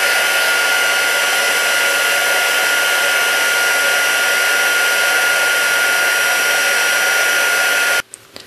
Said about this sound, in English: with this heat gun, and it's a lot quieter than my old heat gun